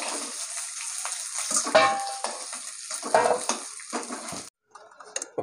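Sliced raw plantain and potatoes frying in a pan, with loud sizzling broken up by clinks and scrapes of a utensil against the pan and a short quiet gap near the end.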